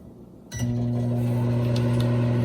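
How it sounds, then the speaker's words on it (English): A microwave oven, melting butter in a large mug, starts up with a click and settles into a steady, low electric hum, close by. "A large mug and melt it in the microwave for 20 seconds."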